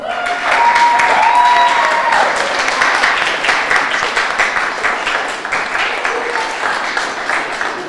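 A crowd at a Martin Luther King Jr. Day celebration held by a Cape Verdean association applauds the keynote speaker, loud, sustained clapping from many hands, with cheers and raised voices mixed in near the start.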